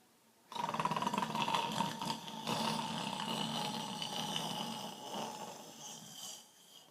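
A singer's voice imitates snoring as a vocal warm-up exercise, making a sustained, rattling, buzzy drone for about six seconds at close range with no other sounds.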